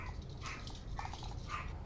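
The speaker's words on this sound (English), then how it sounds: "That dog sounds like it weighs about 3 pounds." A small dog yips and barks faintly in short, high bursts, distant and quiet over a low background hum.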